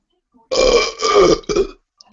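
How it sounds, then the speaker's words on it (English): A single long, loud, close burp rolls out in two surges, ending with a short tail. "That was a good burp"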